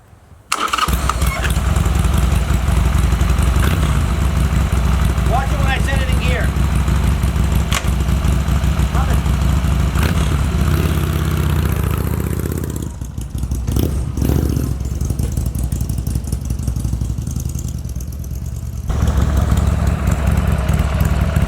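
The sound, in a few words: restored barn find motorcycle engine starting and idling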